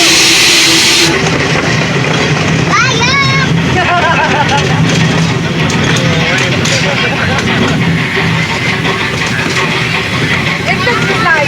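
Train passing close by, with a loud, steady rumble and clatter of wagons and some high squeals from the wheels or brakes. Voices talk over it.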